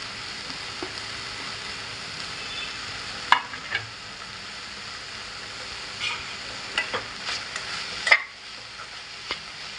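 Grated coconut being stirred into cooked drumstick leaf vegetable in a pan, with a soft steady sizzle and scattered spoon scrapes and clinks, quiet and close, no talking.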